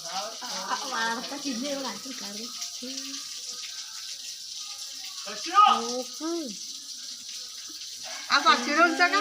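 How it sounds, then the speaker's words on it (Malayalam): Water runs from an opened pipe tap where animals come to drink in summer, a steady close hiss beneath voices and chirpy calls that come and go over it. "വെള്ളം പൈപ്പ് തുറന്ന് വെള്ളം കുടിക്കുന്നത്"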